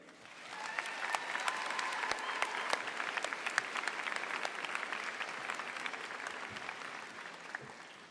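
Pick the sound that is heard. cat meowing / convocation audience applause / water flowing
convocation audience applause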